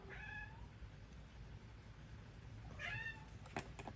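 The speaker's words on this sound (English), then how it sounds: "You can hear my cat meowing." A cat meows twice, faint and a little distant, against a low background rumble, with a soft tap near the end.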